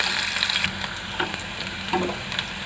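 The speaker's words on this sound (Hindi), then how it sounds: "अब मैं इसमें ऐड करूँगी ये प्याज। ये एक छोटी प्याज है, मैंने कटी हुई, इसको फ्राई करूँगी थोड़ी देर" Chopped small onion sizzles and fries in hot oil with fenugreek and garlic, a steady crackling hiss with occasional stirring, close and alone without talk.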